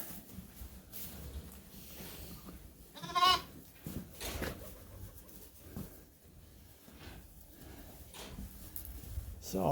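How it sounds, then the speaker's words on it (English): Newborn lambs bleat on a farm, one clear, loud, wavering bleat standing out among a few fainter calls and shuffling noises nearby, with quiet stretches between them. "These are the newest lambs."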